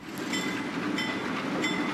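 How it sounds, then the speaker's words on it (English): A freight train rolls along the rails in Mexico at night, a loud, continuous rumble of wagons with faint rhythmic clicks and high metallic squeals overhead. "The train pulled out around midnight."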